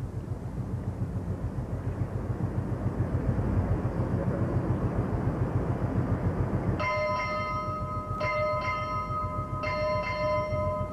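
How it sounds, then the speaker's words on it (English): A ship's bell rings in a few ringing strokes, grouped in pairs, during a US Navy decommissioning ceremony for the aircraft carrier USS Saratoga, marking the arrival of senior officers over a steady roar of wind or crowd. "they're all arriving right now, as you can hear by the bells"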